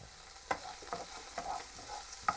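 Onions frying in a pan, a soft steady sizzle with a few sharp clicks and stirring scrapes standing out, close and fairly quiet, no voices.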